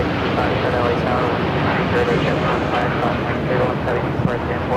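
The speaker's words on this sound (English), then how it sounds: "3036 taking off to Tokyo Haneda on the 787-9 Dreamliner" A United Airlines Boeing 787-9 Dreamliner takes off at LAX for Tokyo Haneda, its steady engine roar filling the background while people talk over it and faint radio chatter comes through.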